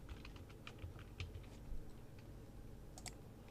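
Quick bursts of clicking keystrokes on a computer keyboard while a WordPress folder name is entered, close and fairly faint over a low background hum, with no speech.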